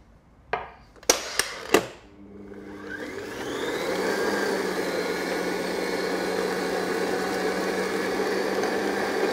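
After a few sharp knocks, an electric mixer whirs up and runs steadily, beating an egg into spicy pumpkin cake batter in a mixing bowl, a close continuous motor drone with no voices.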